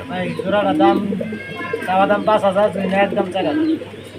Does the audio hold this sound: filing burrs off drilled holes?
no